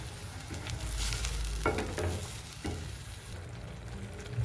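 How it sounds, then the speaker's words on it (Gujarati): Garlic and Kashmiri red chili paste with a little cumin sizzles steadily in hot oil for pav bhaji, a close, continuous crackle with occasional stirring scrapes and no talking. "એમાં થોડું જીરું નાખી દઉં"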